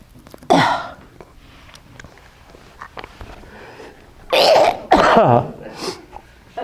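A single sharp cough, followed a few seconds later by two heavier, raspy coughs close to the microphone, with quiet sniffing and rustling in between.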